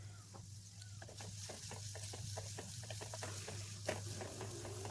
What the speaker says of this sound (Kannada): ಬದನೆಕಾಯಿ ಹುರ್ಕೊಂಡಿರೋ ಎಣ್ಣೆ ಇರುತ್ತಲ್ಲ, ಅದಕ್ಕೇ ಚಿಕ್ಕದಾಗಿ ಹೆಚ್ಕೊಂಡಿರೋಂಥ ಈರುಳ್ಳಿನ ಹಾಕ್ಕೊಳ್ಳೋಣ